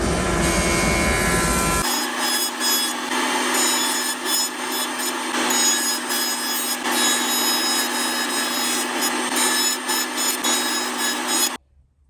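Hardwood boards run across a jointer, a loud steady whir of spinning cutters with a rough, rasping cut, starting after an opening burst and cutting off abruptly near the end.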